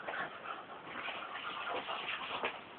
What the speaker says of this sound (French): c'est un bon chien.